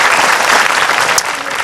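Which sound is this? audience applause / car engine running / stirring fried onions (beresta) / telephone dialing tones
audience applause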